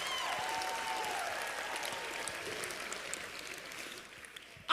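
An audience breaking into steady applause after a stand-up comedy line, dense clapping that holds loud then thins out and fades toward the end.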